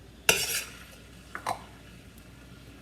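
A spoon clinks sharply against a pan while stirring a warm honey mixture, giving one bright scrape followed by a couple of softer taps against a quiet background.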